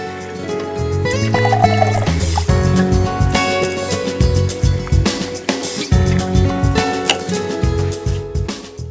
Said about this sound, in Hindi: मैं इसमें थोड़ा पानी डालती हूँ।